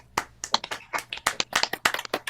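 Scattered handclaps from a few participants of a Zoom video call, irregular and close-miked, a sparse patter of separate claps with no talk.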